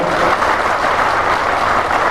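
A crowd at a political gathering for a Bahujan Samaj Party candidate claps steadily and loudly throughout, a dense continuous wash of applause with no pauses.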